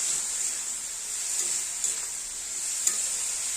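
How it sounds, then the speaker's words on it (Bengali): Pumpkin and shrimp in a pan with sugar just added, stirred in a steady, close sizzling hiss broken by a couple of faint spoon scrapes, with no talk. "আমি এবার দিয়ে দেবো চিনি আবার ভালো করে মিশিয়ে নেবো"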